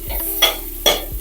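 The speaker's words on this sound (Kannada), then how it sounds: "ಈ ರೀತಿ ಮಧ್ಯದಲ್ಲಿ ಕಲಿಸ್ಕೊಂತ ನೋಡ್ಕೊಳ್ಳಿ" Spoon stirring avare bele lentil saagu in a hot pan, two quick scraping strokes over a soft sizzle, close and brief, with no talk.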